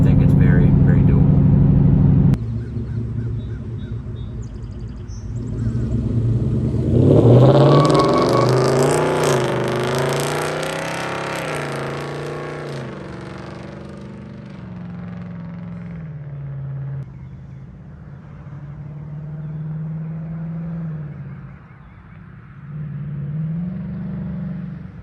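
A 5.0L truck fitted with X-pipe dual exhaust revs up loudly in a sharp rising burst, then settles back to a rumbling idle with smaller blips, heard up close with someone talking over parts of it.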